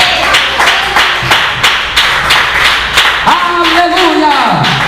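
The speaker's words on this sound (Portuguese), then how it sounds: "Pode bater as palmas com glória a Deus." A church congregation claps hands in steady unison rhythm during a worship service, sharp repeated claps about three per second, close and loud, with a voice speaking and intoning over them.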